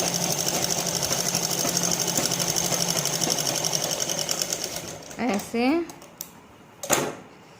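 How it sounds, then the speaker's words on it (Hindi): An interlock overlock machine runs steadily for about five seconds, finishing the sleeve seam of a tucked blouse, then stops as a few short handling clicks and rustles follow, with a louder knock near the end. "इस तरह से मैं सिलाई लगा लूँगी स्लीव्स की, और फिर मैं इसमें इंटरलॉक कर दूँगी।"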